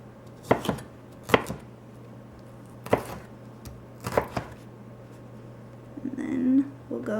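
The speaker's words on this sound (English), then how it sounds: "we're going to gather it up, chop it all in half" A knife chops vegetables for a stir fry on a cutting board in a home kitchen, with four sharp separate thunks spaced about a second apart. Softer clatter and handling follow near the end.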